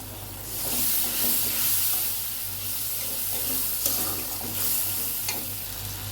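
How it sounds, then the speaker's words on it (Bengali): A spice paste of chili powder and turmeric fries in a pan for a hilsa curry with potato and eggplant, giving a steady close broadband sizzle that swells and eases as it is stirred, with occasional light clicks. "এখন আমি মশলাটা ভালোভাবে কষিয়ে নিব।"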